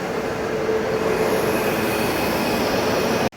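A Tamil Nadu SK Express passenger train hauled by a locomotive between Hazrat Nizamuddin and Madurai rumbles past, loud and close with a steady roar of rolling wheels and faint squealing. The sound cuts off abruptly at the very end. No voices are heard.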